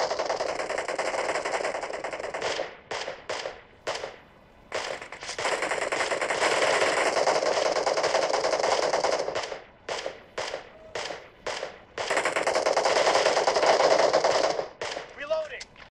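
Gunfire from the BGMI mobile battle game, heard through Kreo Beluga gaming headphones, comes as long, loud bursts of rapid automatic shots. Brief gaps and scattered single cracks fall between the bursts.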